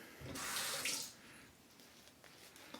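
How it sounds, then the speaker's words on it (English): Tap water runs from a faucet to wet a shaving brush, a loud broadband rush for about a second before easing into a softer trickle and quiet room tone. "I'm adding a little bit more water to the brush."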